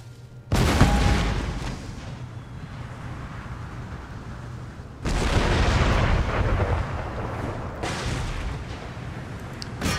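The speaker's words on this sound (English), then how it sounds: "Go on then, howitzers. Have your fun." Howitzer artillery fire in the strategy game Empire: Total War: three loud booming cannon salvos with rolling rumble, the first just after the start, another around five seconds and a third near eight seconds, with no talk.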